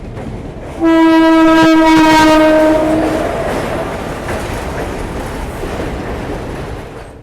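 A passenger train horn blasts for about two seconds over the loud rumble and clatter of the train rolling by near Unnao Junction, India, and the running noise continues after the horn stops.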